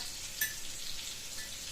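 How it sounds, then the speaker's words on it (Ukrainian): Cutlets fry in a pan with a steady, close hiss and crackle of hot oil, punctuated by a couple of sharper pops. "поки котлетки смажуться"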